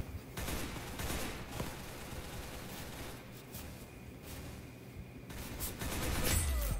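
Steady automatic gunfire in the Roblox game Arsenal, dense overlapping shots rattling loudly throughout, with a few sharper single cracks near the end.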